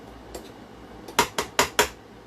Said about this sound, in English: You can use the knife or a spatula, whatever is comfortable for you, to scrape off your batter from your paddle